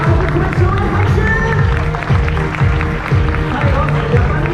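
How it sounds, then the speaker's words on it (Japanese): An audience at an outdoor street dance festival claps and cheers loudly for a performing team, sustained crowd applause running over a regular pulsing beat. "2番目ワールドコレクションへ拍手。"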